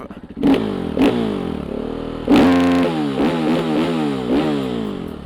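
A supermoto motorcycle fitted with a cheap fake FMF exhaust is revved repeatedly, with short sharp blips of the throttle rising over a throaty idle, loud and close.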